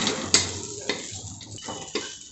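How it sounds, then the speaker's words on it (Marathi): Khichdi being sautéed in a pan over a low gas flame, with a soft steady sizzle and several sharp clinks and scrapes of a spoon against the pan spaced through it, close and moderately loud. "गॅस आपण मंद करून घेतलेला आहे आणि त्याच्यावरती आता छान अशी परतून घेऊ"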